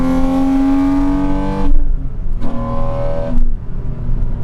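A 2006 Porsche 987 Cayman S engine revs from inside the car, a steady loud drone that drops off, then rises in a second short rev and falls away again, with no talking.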